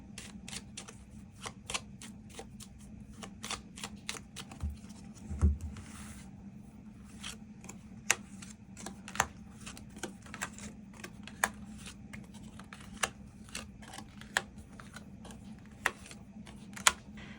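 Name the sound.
tarot cards being shuffled and drawn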